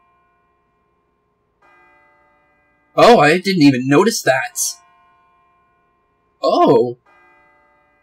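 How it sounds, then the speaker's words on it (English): A steady bell tone tolls from the Tartarus clock tower in the video game Persona 3 FES, ringing on under the talk while people speak in short bursts over it. "So, the bell in the Tartarus is going off."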